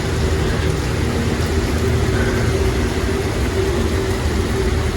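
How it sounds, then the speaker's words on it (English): Wind-driven rain sweeping across a road in a winter storm, a steady dense hiss with a low rumbling gust underneath, continuous and fairly loud throughout. "Just the rain blowing on the road."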